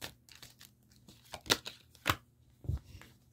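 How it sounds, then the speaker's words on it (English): Tarot cards being shuffled by hand, a few quick papery riffles and slaps in a quiet room with no talking. "Shuffle the cards."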